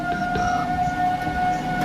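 A wailing siren sounds steadily from a distance, its sustained tone holding over a low outdoor rumble, with no voices.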